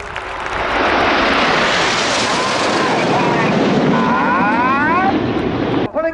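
Military aircraft flying in formation at a naval air show, a loud sustained roar of engines sweeping overhead with shifting pitch for several seconds before cutting off.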